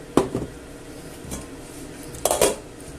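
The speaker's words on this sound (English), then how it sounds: "take this pan out and replace it with a large pot" Metal cookware knocked on a stove as a pan is lifted off and a large pot set down for a meatball stew, two clusters of clanks and scrapes with a quieter bump between them, close by.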